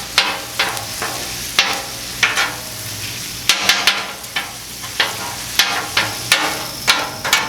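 Onions sizzle on a Blackstone griddle for cheesesteak while a metal spatula scrapes and taps the steel surface in a regular rhythm, each stroke a sharp clack over the continuous frying hiss.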